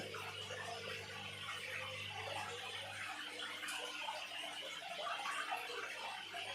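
Water is pumped out of a small fish pond used for raising stinging catfish, giving a steady low pump hum under continuous splashing and gushing, even and moderately faint, with no talk.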